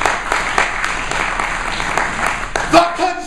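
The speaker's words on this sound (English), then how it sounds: "Give yourselves a round of applause." Applause from an audience at a Maryland education event fills the room as a dense, steady wash of clapping, with a voice briefly audible near the end.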